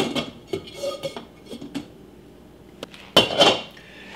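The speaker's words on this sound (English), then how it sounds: "I'll put a lid on it." A metal lid set onto a cooking pot of water brought to the boil, giving a sharp clatter and ringing clink near the end after softer scattered kitchen knocks, close and alone with no talk.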